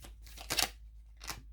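Tarot cards are shuffled by hand in a few quick papery riffling bursts, close and fairly soft, with short pauses between them and no talk.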